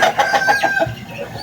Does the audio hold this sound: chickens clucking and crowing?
yes